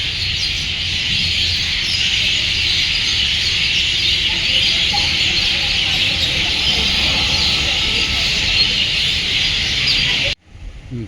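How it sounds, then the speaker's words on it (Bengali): Many birds call together in the evening at Rabindra Sarobar lake. The chorus is loud and dense, with steady overlapping chirps and twitters that run unbroken for about ten seconds, then cut off abruptly near the end. "সন্ধেবেলায় পাখির আওয়াজ শুনুন"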